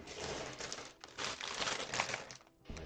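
Plastic bags of Lego pieces from the Dune Atreides Royal Ornithopter set crinkle and rustle as they are pulled out, close and busy in bursts with a brief pause near the end.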